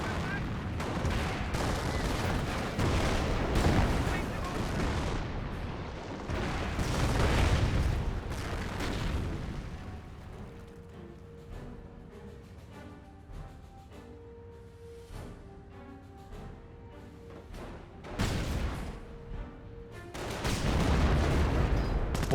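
Artillery battle in Company of Heroes 1, with a 17 pounder anti-tank gun and mortar firing: heavy booming shots and blasts come in loud bursts with quieter gaps between them, and a commentator talks over parts of it.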